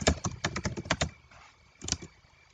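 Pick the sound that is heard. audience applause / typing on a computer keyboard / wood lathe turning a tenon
typing on a computer keyboard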